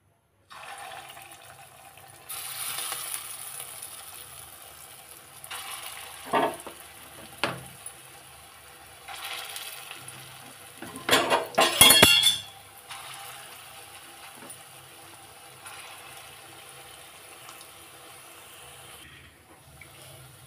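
Urad dal badi dumplings drop into hot oil in a kadai, a steady close sizzle that swells into loud bursts of crackling and spattering, then settles back into a quieter fry, with no voices.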